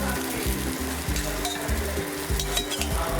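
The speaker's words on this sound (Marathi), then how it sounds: "आता त्यावर थोडंसं तेल घालून घेऊया आणि बघा परतून घेऊया." Amboli, a Konkani rice pancake, frying in a little oil on a hot griddle, with a steady close sizzle and repeated low rhythmic scraping of a spatula across the pan throughout, no voices.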